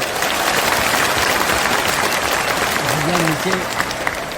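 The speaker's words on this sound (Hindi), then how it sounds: "जोर से ताली बजाएं" A large crowd at a political rally in Bihar applauds loudly and steadily throughout, with crowd noise and a brief voice rising near the end.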